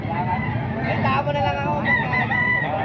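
A rooster crows loudly amid the bustle of a chicken market at the Grotto tiangge, its drawn-out call rising over a steady crowd murmur with voices talking nearby.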